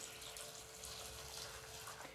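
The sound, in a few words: water poured over flattened rice (poha) to wash it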